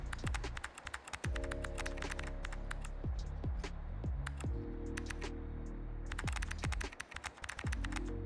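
Fingers type steadily on a computer keyboard, irregular bursts of close, crisp key clicks with short pauses, layered over a sustained tonal hum or soft background music.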